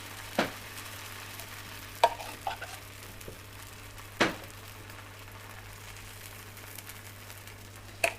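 Vegan pancake batter fries in coconut fat in a hot pan, a faint steady sizzle broken by a few soft clicks and taps of utensils, with no talking.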